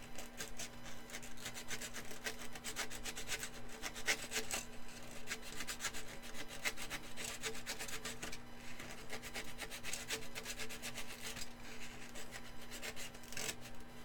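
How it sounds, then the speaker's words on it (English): A large sheet of sandpaper is rubbed by hand across a surface in quick, repeated scratchy strokes, a dry, continuous rasping that is fairly faint and steady throughout, with no voices. "It's such a large piece of sandpaper."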